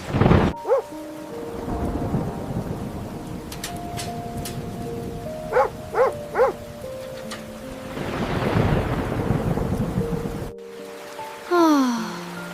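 Steady rain pours with rumbling thunder through a storm, broken by a few sharp bright cracks in the middle and a pause near the end before the downpour resumes.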